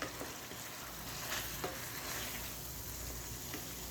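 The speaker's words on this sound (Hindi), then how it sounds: "अब अच्छे तरीके से इसको मिक्स करेंगे।" Vegetables being stirred and mixed with vinegar for restaurant-style chicken fried rice, a steady sizzle of frying with soft scraping stirs running through all of it, no voices.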